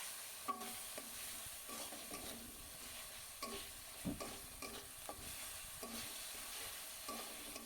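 A spice paste of ginger and garlic with turmeric and salt sizzles softly in a pan. A spoon scrapes it in a steady rhythm of repeated strokes, the sound quiet and close with no voices.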